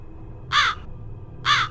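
A crow gives two loud, harsh caws about a second apart, each short and raspy, standing out clearly over a quiet background.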